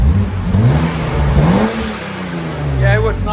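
A 1995 BMW M3 with a 3.0L inline-six, dual exhaust and resonator delete revs steadily, its engine note rising and falling in a loud, close drone across the whole stretch.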